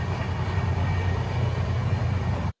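Tejas Express train on a Chennai–Madurai run speeding through a station without stopping, a steady loud rumble of wheels and carriages lasting throughout, heard close and continuous with no talk.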